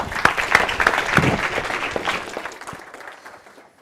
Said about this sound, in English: Applause for you as well.